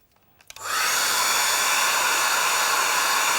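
A hair dryer switches on with a faint click and then blows a loud, steady whoosh to dry a watercolour painting of a Scottish scene, with no talking over it.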